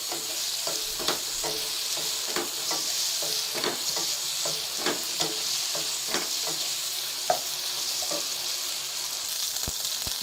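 Chicken pieces fry in oil for a vegetable pasta, browning to light gold with a steady close sizzle broken by scattered sharp pops and spatters, and no voices.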